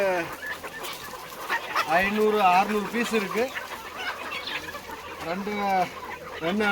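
Chickens cluck and call repeatedly at a morning paddy-grain feeding, fairly close and loud, with someone talking over them throughout.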